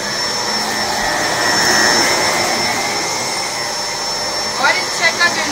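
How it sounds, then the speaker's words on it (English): An Electrolux vacuum cleaner runs with a loud, steady, close whine throughout, a few short clunks near the end as it picks up debris. "I'm just going to vacuum up the rest with the Electrolux"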